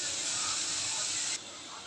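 A mixer grinder coarsely grinds coconut, fennel seeds and rock salt, a loud, steady close whirring hiss that drops abruptly to a lower, quieter whir near the end.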